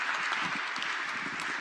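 Town hall audience clapping, a short, even wash of applause from a crowd at moderate distance.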